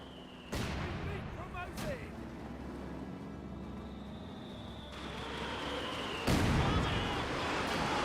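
A Panzer IV and mortar barrage in Company of Heroes 2 produces heavy booming impacts over a constant battlefield rumble, with a few distinct blasts spread through the scene while a voice talks over it.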